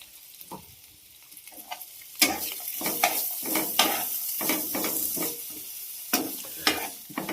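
Cabbage, onion and green chili frying in a pan with a little oil, sizzling steadily while a utensil stirs and scrapes in repeated clattering bursts, close and fairly loud.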